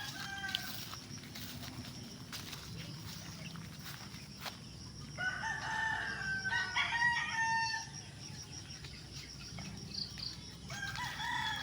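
Chickens and a crowing rooster on a rural farm in the Philippine countryside, several clucks and crows near and far, repeating over a steady outdoor background.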